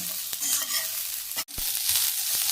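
Onion and ginger pieces fry over a low flame for a village-style egg curry, giving a steady close sizzle with stirring scrapes and one brief break partway through.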